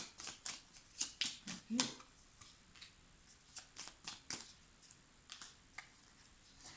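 A deck of cards being handled and shuffled close by, a quiet series of crisp riffling flicks and taps in uneven bursts, louder at first and then softer.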